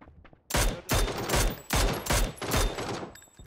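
Gunfire from a shooter video game rips out in four or five loud, close bursts of rapid shots, separated by short gaps and heard alone without talk.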